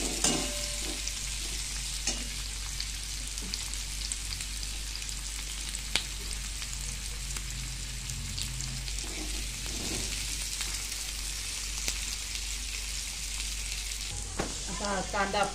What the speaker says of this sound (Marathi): कांदा भाजून घ्यायचा लालसर, जास्त पण लाल नाही,